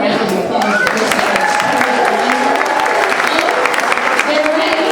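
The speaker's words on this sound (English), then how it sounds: "So give them a round of applause for this." Audience applause at a charity fashion event, loud dense clapping from a crowd that runs continuously, with voices murmuring underneath.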